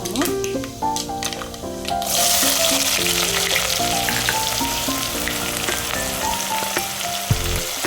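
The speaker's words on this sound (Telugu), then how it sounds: "ఇప్పుడు దీంట్లో ఆనియన్ వేసుకుందాము" Chopped onion sizzles loudly as it drops into hot oil with fenugreek seeds in a pan, the frying hiss swelling and staying strong and close, while soft music plays underneath.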